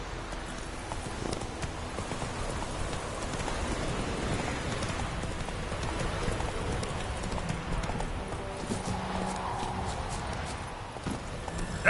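Horse Roach walking in a video game, with steady clip-clop hoofbeats throughout at close range over a continuous outdoor ambience, without any talk.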